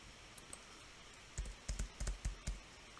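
Quick keystrokes on a computer keyboard as a search word is typed, a short burst of about seven close, crisp clicks after a near-silent start, with no voices.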